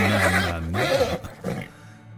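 A young horse gives a loud, shaky whinny followed by snorting breaths, close by, with no other sounds around it.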